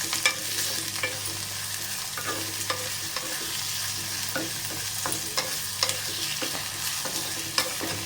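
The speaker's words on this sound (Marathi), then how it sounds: "गॅस मीडियम ठेवायचा आहे आणि आपल्याला कांदा परतून घ्यायचा आहे" Chopped onion sautéing over medium heat in an iron kadhai or tawa for street-style egg bhurji, a steady sizzle broken by frequent spoon scrapes and stirring clinks, close and continuous with no talking.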